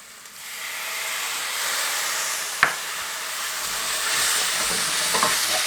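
Garlic sizzling in a pan as white wine is poured in to deglaze, a steady frying hiss with a sharp clank near the middle and the sizzle swelling afterward.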